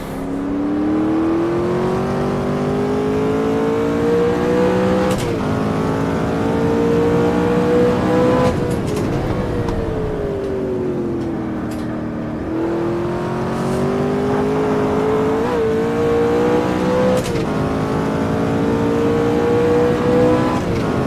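A McLaren F1 engine in the Automobilista racing game revs hard and steadily, rising through the gears with a strong, close whine, dropping at each shift and climbing again over about twenty seconds.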